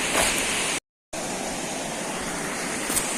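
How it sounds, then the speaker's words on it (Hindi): Fast, swollen brown Ramganga river rushing past, a loud, broad, steady roar of churning water, close by and constant apart from one brief dropout of total silence. "रामगंगा नदी, ठीक है, और इसका बहाव भी अत्यंत तीव्र हो चुका है।"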